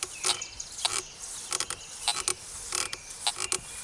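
A Fisher F19 metal detector gives faint, intermittent tones: brief high chirps scattered over a soft hiss, repeating irregularly as the coil sweeps over a buried target.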